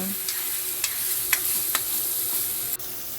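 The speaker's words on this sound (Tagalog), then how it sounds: "At haluin lang natin para mag-mix ang kanyang lasa." Bitter melon (ampalaya) is stirred in a frying pan under a soft continuous sizzle, with a few brief scraping strokes from a utensil, close by and with no voices.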